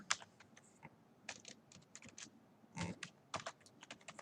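Quiet, close typing on a computer keyboard while Python code is written, with irregular bursts of soft key clicks and a louder clack or two, such as the space or enter key.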